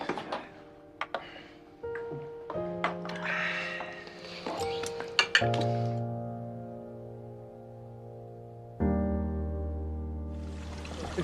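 Several bright, ringing clinks of glass against glass in a toast at a group dinner, followed by longer sustained ringing tones, with faint voices around them.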